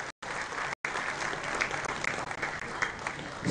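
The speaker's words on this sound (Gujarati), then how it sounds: "આપ સૌને પુનઃ વિનંતી, તાળી અમે આવકારીશું" Audience clapping steadily in a hall at a Surat police felicitation ceremony, a dense sustained round of applause welcoming minister Kumarbhai Kanani, cut by two brief silent gaps near the start.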